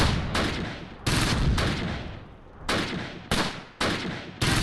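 In the WWII strategy game Close Combat, set on the Fontenay-Caen road in 1944, heavy gunfire and mortar blasts boom in a series of loud, abrupt bursts that each decay into rumbling echoes.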